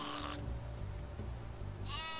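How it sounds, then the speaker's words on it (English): Sheep bleating in Worms Ultimate Mayhem, two short high cartoonish bleats, one at the start and one near the end, over a steady low game backdrop. "How about that sheep go down the hill and grab you?"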